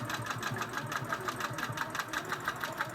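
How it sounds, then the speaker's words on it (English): Sewing machine stitching a Costco blanket as quilt backing onto a quilt-as-you-go top, a close, steady, rapid needle chatter running without a break. "This is very simple sewing."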